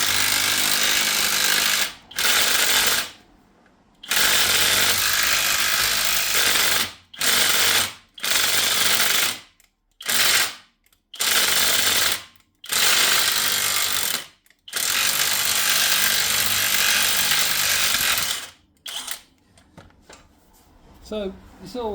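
A power tool gun, run in reverse on a corroded Mini rear subframe nut, fires in loud, harsh bursts of a few seconds each, separated by short silent gaps, with a ratcheting clatter up close.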